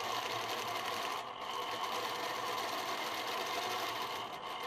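Sewing machine stitching at 12 stitches per inch, outlining a wing shape with a swirl, running as a steady, continuous close-up whir with fine rapid needle chatter and no pauses.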